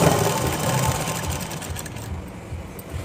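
A sewing machine stitches a lehenga, a fast continuous mechanical whirr with a rapid needle rhythm, close and steady throughout.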